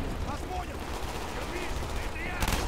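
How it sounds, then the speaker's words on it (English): Gunfire in the Call of Duty Black Ops campaign, rapid bursts of shots and explosive cracks at a steady clip, with a louder burst at the end and a player talking over it. "Stop shooting at my friends."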